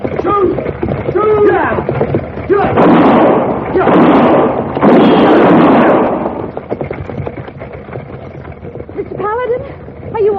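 Gunfire rings out in a western radio-drama shootout: two long, loud bursts of shots and echoing blasts, with tense shouted voices before and after.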